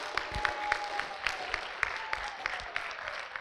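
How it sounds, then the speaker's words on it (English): Audience applause at a school nomination convention for student candidates, a modest crowd clapping steadily with scattered sharp claps, heard from a short distance without talk. "can we please get a round of applause for all our candidates once again?"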